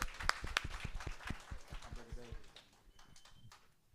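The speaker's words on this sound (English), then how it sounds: "First, let's clap it up one more time." An audience at a university communications week event claps for its panelists, with scattered sharp claps over a busy room and voices mixed in, and the clapping thins toward the end.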